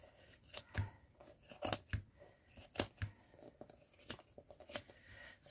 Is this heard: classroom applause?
no